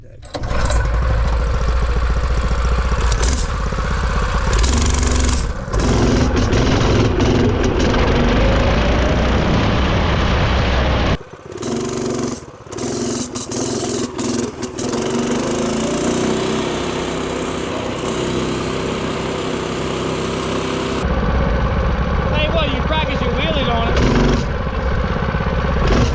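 Small mini bike engine running loud and close for most of the time, its pitch rising and falling as the throttle changes and dropping out briefly partway through, with people talking over it.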